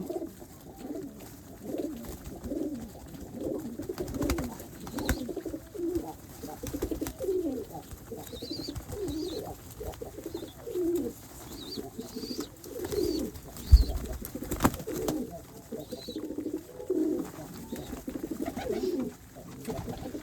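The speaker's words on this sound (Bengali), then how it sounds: "নিউ অ্যাডাল কবুতরগুলো ডাকাডাকি করে" Several pigeons, including newly adult birds, coo repeatedly in low, throaty rolling calls, overlapping at close range with faint rustling and a few soft knocks in the background.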